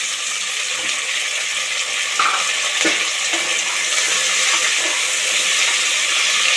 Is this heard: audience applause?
no